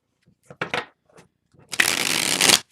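A few soft card flicks and taps, then a loud, rapid riffle shuffle of a tarot deck lasting under a second, close up.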